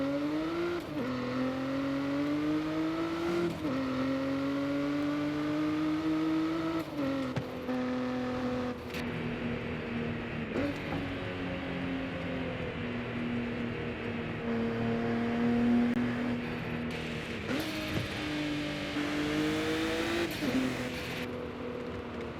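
Nissan Z NISMO engine in Forza Horizon 5, revving and shifting through gears with repeated rising harmonic sweeps and brief drops at each shift, loud and close, continuous for the whole stretch with no talking.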